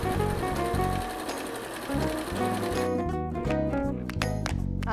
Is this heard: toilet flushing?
no